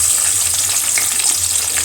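Onions sizzle and fry in hot oil with cinnamon and cloves for a liver fry, a loud, steady crackling hiss close up with occasional stirring.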